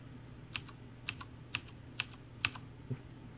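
Six sharp, separate keystrokes on a CM Storm Quickfire TK mechanical keyboard with clicky Cherry MX Green switches, evenly spaced about half a second apart, close and crisp against a quiet room.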